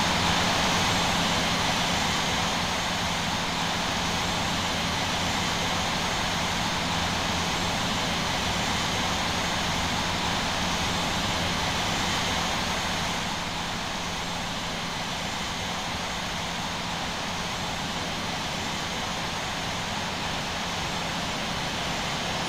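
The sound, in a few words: airliner jet engines taxiing to runway, from Infinite Flight video game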